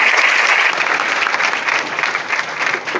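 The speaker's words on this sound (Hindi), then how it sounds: "जोरदार तालियां बजा दी है धनंजय सर के लिए।" Loud audience applause at a student award ceremony honouring toppers, a thick sustained burst of many people clapping that holds steady for three seconds with slight swells.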